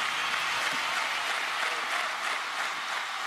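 Warm applause from a political party convention audience in Warsaw, a dense steady clapping texture that holds evenly throughout without voices.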